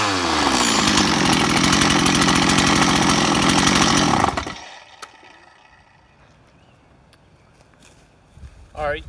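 A freshly rebuilt Stihl 024 chainsaw with a newly sharpened chain roars loud and close for about four seconds, then cuts off, leaving quiet background with faint handling noises and a brief sound near the end.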